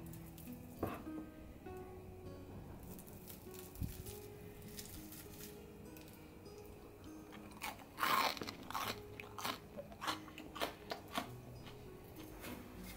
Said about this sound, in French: Puis écoutez comme ça croustille, c'est incroyable.